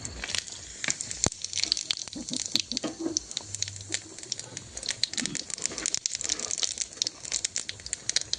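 Cumin seeds sizzling in hot oil for a dhaba-style dal tadka, giving a faint, steady crackle and spatter that carries on throughout, with a few sharper pops.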